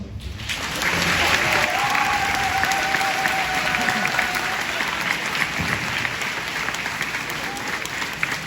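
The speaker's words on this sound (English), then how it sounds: "give me a round of applause." Sustained audience applause fills an opening ceremony for an education program, a dense, steady wash of clapping that rises within the first second and stays loud throughout, with faint voices mixed in.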